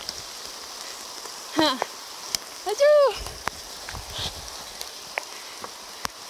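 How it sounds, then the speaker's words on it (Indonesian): Rain falls steadily in a rural village, a soft continuous hiss with scattered sharp drips and clicks, while a voice briefly speaks and a bird calls nearby. "Hujan turun."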